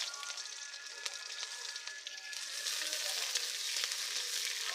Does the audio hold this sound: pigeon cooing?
no